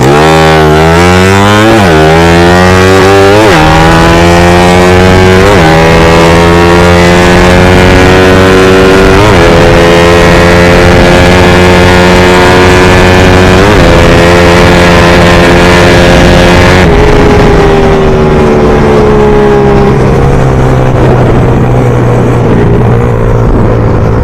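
Honda R150 motorcycle engine revving hard during power shifting, pitch climbing and dropping sharply with each quick gear change, loud and close for the whole stretch before settling to a lower drone.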